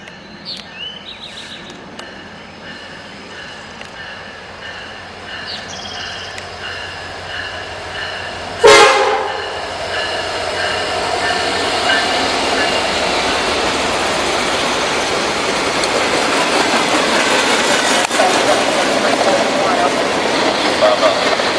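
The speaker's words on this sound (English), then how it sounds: "Sound like two horns." A Norfolk Southern freight train in Bessemer, Alabama sounds two horns, their sustained tones faint and distant. A sharp bang follows partway through, then a steady rail rumble of passing cars.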